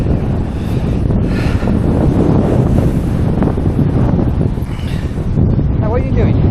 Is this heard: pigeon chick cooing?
no